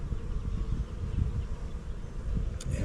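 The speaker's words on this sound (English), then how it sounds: "it'll just be an adult, either drone or female worker bee" Honey bees, drones and female workers, buzzing on a hive frame in a dense, steady hum that holds close and even throughout with no talk.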